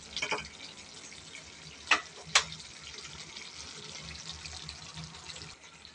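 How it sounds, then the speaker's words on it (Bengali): Chicken sautés in a pan with a faint, even sizzle, broken by two sharp clinks of a utensil against the pan near the middle. "চিকেন কষাই হচ্ছে, কিন্তু একটু অন্য পদ্ধতিতে"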